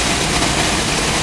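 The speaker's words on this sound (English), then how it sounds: "So that noise you can hear is the air blowing the ergot out" Air jets on a barley sorting machine blow ergot out of the flowing grain, making a loud, steady, broadband hiss over a low mechanical rumble that continues without a break.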